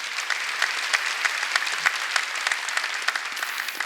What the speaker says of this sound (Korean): 깨달은 사람만 박수 쳐갖고요.